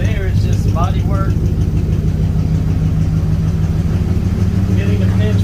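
A 1950 Dodge pickup truck engine runs at a steady, loud, low rumbling idle close by, with a brief voice heard over it at the start and end.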